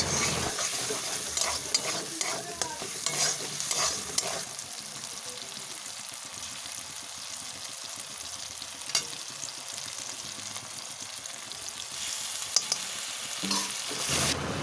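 Turmeric powder and tomato sauce are stirred in a frying pan for a homemade pasta. A steady, close sizzle is broken by scraping and clicking from the spoon against the pan, with no talking.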